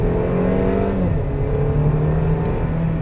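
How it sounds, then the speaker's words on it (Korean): A Mercedes-Benz GLB SUV running on high-octane fuel accelerates hard, its engine note rising steadily and loud close by, with no talk. "이런 식으로 브레이크 컴포트 모드에서 이런 굉장한 엔진 사운드와 함께 이렇게 나갑니다, 차가."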